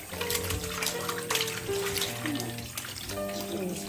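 Running water pours steadily from a tap over cleaned fish being rinsed in a kitchen, with a continuous splashing gush, close and fairly loud throughout.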